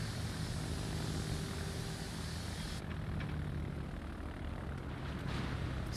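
Propeller engines of carrier aircraft in World of Warships, flying from the Japanese hybrid battleship-carrier Ise, drone steadily and loudly throughout. The high hiss thins out partway through while the low engine hum carries on.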